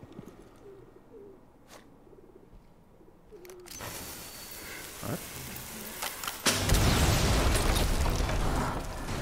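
Loud booming explosions and rumbling blasts in the video game Ready or Not build up and fill the second half, preceded by quieter ambience with soft bird-like cooing.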